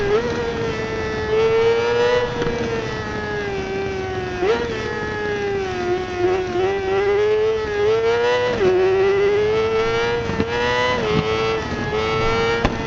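2004 Kawasaki ZX-6R 600 sport motorcycle engine screaming at high speed, a loud, steady high-revving whine that rises and dips through several quick gear changes over a long run, close to the rider.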